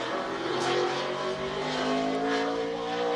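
A 2007 Toyota NASCAR Cup Series stock car V8 runs hard on the rev limiter during qualifying at Sonoma, a loud continuous buzzing roar with a slight stuttering pulse heard from onboard.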